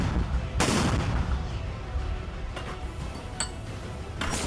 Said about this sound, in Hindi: इजराइल पर रॉकेट दागते हैं।